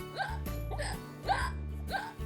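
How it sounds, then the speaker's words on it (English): Cartoon squirrel hiccuping after laughing hard at a joke, four evenly spaced voiced hiccups over a steady music bed, fairly close and clear. "Squirrel laughed so hard he got the hiccups."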